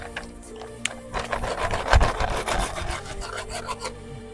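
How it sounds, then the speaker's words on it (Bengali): A skating shoe patched with melted plastic-chair plastic is rubbed level with a rasping stroke, giving a close, gritty scraping that swells and fades, with no talking. "তো চলো আগে ঘষে এটা লেবেল করা যায়"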